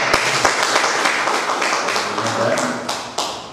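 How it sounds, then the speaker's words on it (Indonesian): Audience applause at a business event honouring Mbak Isa, mixed with a few sharp claps and some faint background voices throughout. "Tepuk tangan dulu buat Mbak Isa."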